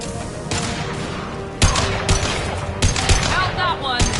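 Rapid bursts of sci-fi gunfire in the video game Mass Effect 2, loud repeated shots and booms in several volleys, with voices talking over the fighting.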